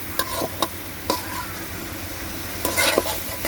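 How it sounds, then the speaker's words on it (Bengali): Chicken fries in a pan with a steady hiss, punctuated by several sharp scraping strokes of a spatula at irregular intervals. "পানি দেওয়ার পরে দেখতেই পাচ্ছেন ভাজা ভাজা করতেছি"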